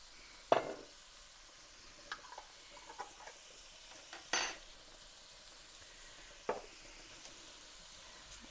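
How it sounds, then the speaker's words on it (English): Onions and peppers are stirred in a frying pan, giving a low sizzle under a few scattered scrapes and clinks of a utensil against the pan, close and fairly quiet, with no talking. "me just give that a good stir"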